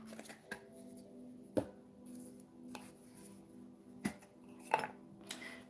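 A metal teaspoon scoops patchouli self-lighting incense powder into a bowl, with soft scraping and a few sharp clinks against the bowl at an uneven pace, close and quiet.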